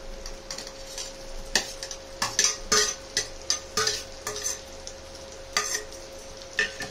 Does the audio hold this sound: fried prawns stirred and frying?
yes